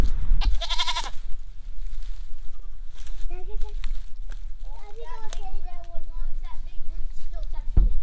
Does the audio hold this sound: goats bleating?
yes